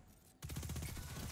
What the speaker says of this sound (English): I'm about to shoot, bro.